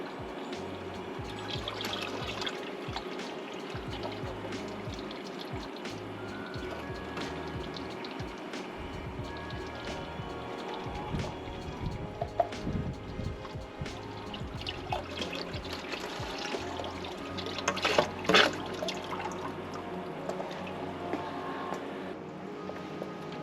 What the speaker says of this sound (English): all we do is just siphon, siphon, siphon, siphon, and it just siphons it all away